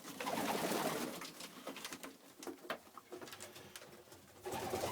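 Texan pigeons cooing in a loft with young birds nearby, faint repeated throaty coos over a quiet background.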